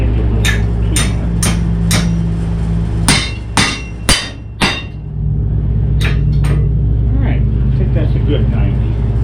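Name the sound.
hammering with a big hammer on a 1977 Pontiac Trans Am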